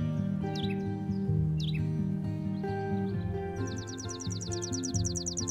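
A Blue Jay's call plays as a game sound in the digital board game Wingspan, with several quick, bright chirps and a rapid trilling run near the end, all over steady, sustained background music.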